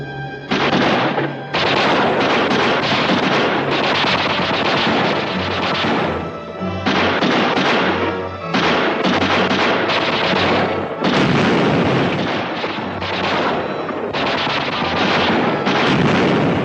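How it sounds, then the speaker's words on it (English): Gunfire from a film as rounds are unloaded, dense continuous volleys of loud shots and crashes that run almost unbroken with brief gaps. "They unload all of the rounds into them."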